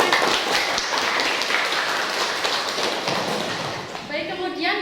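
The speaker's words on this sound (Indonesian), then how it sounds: "Beri tepuk tangan yang meriah untuk mereka." Classroom audience of students clapping for four presenters after a group discussion on accounting policy, a dense steady patter of hands that thins toward the end as voices come through.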